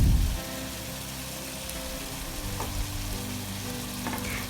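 Chopped onion drops into hot oil with chicken for Pakistani karahi chicken, giving a brief thump and then a steady, close sizzle that crackles on without talk.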